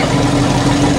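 Old boat's starboard engine running steadily, a loud close mechanical drone with constant low hum and no pauses.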